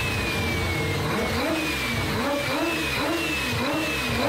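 A Mazda RX-7 with a four-rotor engine and a large turbo revs loudly and continuously, its high-pitched rotary wail rising and falling in repeated pulls with no talking.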